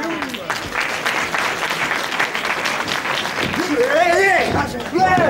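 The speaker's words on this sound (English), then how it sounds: "Quick counter moves from both men, applauded by the crowd." A 1976 UK wrestling crowd applauds steadily for quick counter moves in the ring, a broad wash of clapping that swells near the end while a commentator talks over it.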